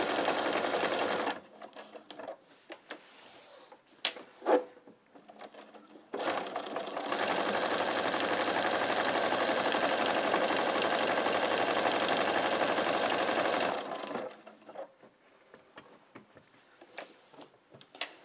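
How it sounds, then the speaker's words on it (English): A sewing machine runs steadily for about seven seconds, stitching around the outer zigzag edge of a chenille shamrock, with shorter bursts of stitching and handling noises before and after. "I'm going to just stitch all the way around, just on the outer edge of that zigzag"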